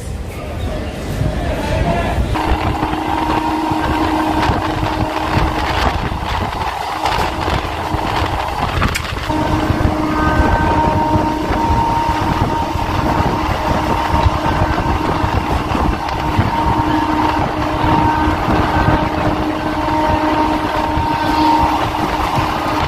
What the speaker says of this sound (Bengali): নাও অলরেডি আমাদের ট্রেন এই শিয়ালদা রেলওয়ে স্টেশন থেকে ছেড়ে দিয়েছে শান্তিনিকেতনের উদ্দেশ্যে।